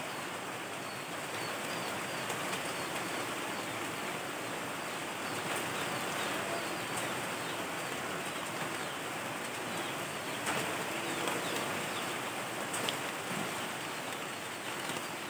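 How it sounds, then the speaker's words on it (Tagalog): Rain falls steadily in a dense, even hiss with occasional sharper drops, while birds coo faintly in the background; no talking. "Naulan na guys."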